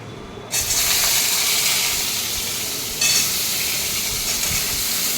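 A potato and vegetable curry cooking in a pan bursts into loud, steady sizzling after a brief quiet moment, with a sharp fresh surge of hiss partway through as more is stirred in.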